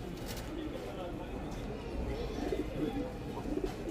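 Giribaz high-flyer pigeons coo softly in low, repeated murmurs amid the busy hum of a pigeon market, with faint chatter of people in the background.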